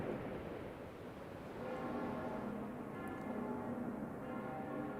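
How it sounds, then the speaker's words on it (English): A bell rings in the Fate/Grand Order video game, a steady sustained tolling with lingering tones over a soft, continuous background, no voices. "I hear a bell ringing."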